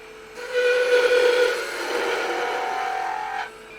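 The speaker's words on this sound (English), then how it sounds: "I'm going to anchor the tool, hit the bevel, start cutting" A spindle gouge cutting a honey dipper on a wood lathe makes a sustained whining, tonal cut lasting about three seconds, rising sharply at the start and stopping abruptly.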